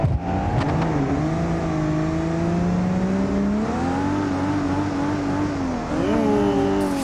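A BMW E30 engine in the BeamNG.drive driving game revs continuously, its loud harmonic drone rising and falling in pitch as the throttle changes, with no talk over it.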